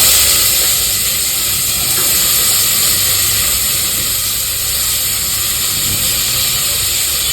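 Onions frying in hot oil in a pan, a loud steady hiss and sizzle that carries on without a break, close up, with no voices over it.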